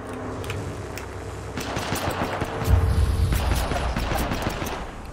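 Sustained gunfire and bursts crackle through a chaotic Apex Legends firefight, growing heavier midway with thuds and rattling shots layered over a busy battle background.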